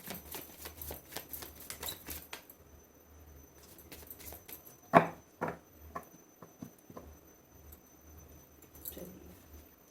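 Tarot cards are shuffled by hand, soft close riffles and clicking flutters in quick bursts with pauses, one sharper snap near the middle, all quiet and intimate.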